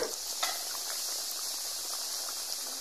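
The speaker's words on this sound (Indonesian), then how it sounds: "ini proses goreng jengkol yang kedua" Jengkol deep-frying a second time in hot oil gives off a steady, close, bright sizzle that stays even throughout, with no voices.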